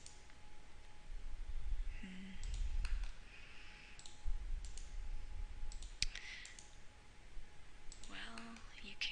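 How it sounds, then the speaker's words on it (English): Short, crisp computer mouse clicks while working in Grasshopper modelling software, a handful of separate taps over soft background noise, with a voice speaking at times. "if you right click"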